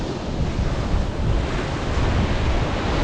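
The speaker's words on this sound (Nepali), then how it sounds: "ल गाई त समुद्र आयो है" Sea waves roll onto a beach in India, a steady, loud, continuous surf roar mixed with heavy wind buffeting the microphone, with no voices.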